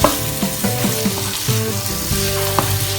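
Four medium onions, finely chopped for chicken curry, sizzle loudly in a pan. A steady hiss runs throughout, with scraping stirs at intervals, close and with no voices.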